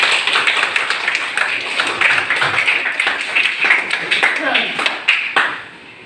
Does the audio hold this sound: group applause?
yes